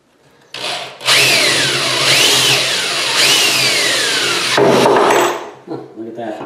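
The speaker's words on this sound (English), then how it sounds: "just drill a hole up from the bottom and nail it in" A Black & Decker power drill bores a hole up from the bottom into a wooden whirligig craft piece, its motor whining loud and close for about four seconds with rising and falling pitch as it bites into the wood.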